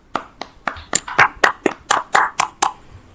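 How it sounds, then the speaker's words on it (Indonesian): A small group in a Year 10 school class claps for a student: about a dozen crisp, separate claps, close and fairly loud, landing in a loose, uneven rhythm, with no talking. "boleh beri tepuk tangan untuk Evan atas jawabannya"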